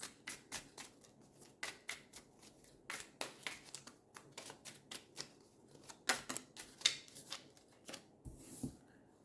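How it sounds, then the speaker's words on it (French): Tarot cards being shuffled by hand: a quiet run of crisp, papery riffles and flicks in an uneven rhythm, close up, with no talking. "donc on brasse, on brasse."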